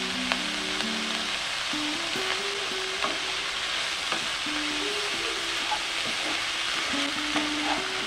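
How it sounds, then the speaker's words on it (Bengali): Chopped banana flower with salt and turmeric fries on a medium gas flame, a steady close crackling sizzle with occasional stirring taps under faint background music. "গ্যাসের জালটা মিডিয়াম রেখে আমরা ভেজে নেব"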